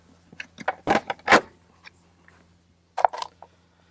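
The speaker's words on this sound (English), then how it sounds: "let's pull off the Aero covers and let's see what that problem is" Plastic aero wheel covers being pried and pulled off a Tesla Model 3 wheel: a cluster of sharp clacks and scraping snaps, then a pause and a few more clicks, close and fairly loud.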